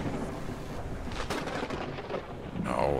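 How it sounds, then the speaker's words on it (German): Thunder rolls through a lightning storm in the video game Forever Skies, a broad rumbling crash that swells and lingers for a few seconds, with a fresh surge near the end. "Ich werde gleich vom Blitz erschlagen."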